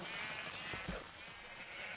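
Sheep bleat in the Minecraft video game on a small farm, a few nasal bleats rising briefly over a constant hiss of game background sound, with no one talking.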